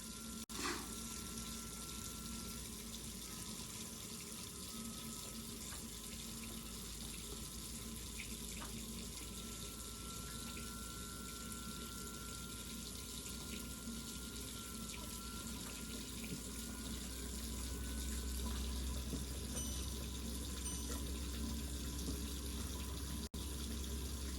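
Meltwater runs through a thawed, previously frozen mainline pipe buried four feet under a road, a faint continuous trickling hiss with steady low hum beneath, alone and unchanging.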